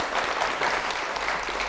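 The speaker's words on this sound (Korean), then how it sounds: "박수 부탁드릴게요." A church congregation at Anyang Holiness Church applauds in a brief, steady, dense burst of clapping that stays even throughout.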